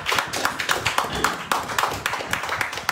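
Audience applause at a Malaysian promotional event launching a betel-leaf beauty product, heard as a close, steady run of individual hand claps with a rapid, uneven rhythm filling the whole stretch without talk.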